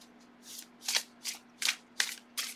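Gilded tarot cards riffle shuffled by hand, six quick crisp bursts of fluttering card edges in a steady rhythm, close and clear.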